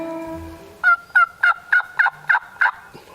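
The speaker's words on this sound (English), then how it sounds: "back in the field behind him, another turkey starts gobbling" A wild turkey gobbles in a field with a rapid series of about seven loud, clear warbling notes, fairly close and alone, after a few faint lower sounds.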